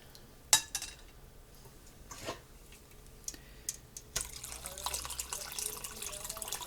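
Turkey bone broth poured and strained in a kitchen: a few sharp clinks of a pot or utensil, then a steady splashing trickle of liquid building up near the end.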